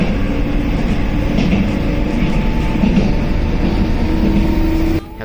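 A JR West 103 series train pulls away fast on single-track line, with a steady motor whine and rumbling wheels, loud and close, building speed until a sudden drop near the end.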